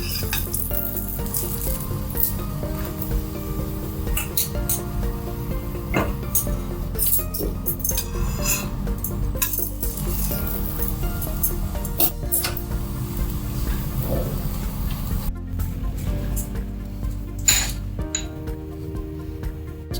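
Ragi paratha frying with homemade ghee on a hot pan at a cooking demonstration, a continuous sizzle dotted with clinks and scrapes of utensils against the pan, and a low background hum throughout.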